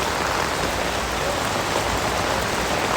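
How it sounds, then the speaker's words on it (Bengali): Steady, dense rain pours down on someone walking under an umbrella, a continuous close hiss of drops with no pauses and no voices. "আমার অবস্থা দেখো, বৃষ্টিতে ভিজছি, ছাতা নিয়ে"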